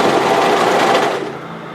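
A sewing machine sews hoodie fabric in a short burst of rapid, loud, rattling stitching that slows and fades near the end.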